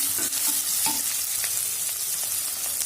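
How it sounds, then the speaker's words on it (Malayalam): Vegetables and curry leaves sauté in a pan for vegetable kurma, a soft continuous sizzle broken by a few scattered clinks and scrapes of stirring. "ഇത് നന്നായിട്ടൊന്ന് വഴറ്റി കൊടുക്കുക"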